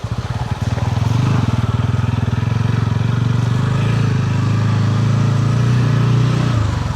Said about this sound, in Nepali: यो बाइक कति पिन्छ यार टायर आफ्नो